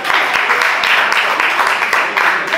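An audience at a business conference applauds in a dense, continuous burst of many hands clapping, steady and fairly loud throughout with little variation.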